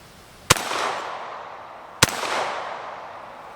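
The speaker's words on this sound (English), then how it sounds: "I got just enough video bullets left. Let me shoot 2 more." Two loud shotgun blasts from a TriStar 28 gauge Viper G2 semi-automatic, fired about a second and a half apart outdoors, each a sharp crack with a trailing echo, no talking.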